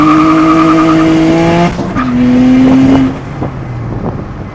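A turbo V6 Honda Accord launching hard: a loud, close engine roar with rising tonal whine, shifting gears once and revving again, with tire squeal and skidding under it and no talk.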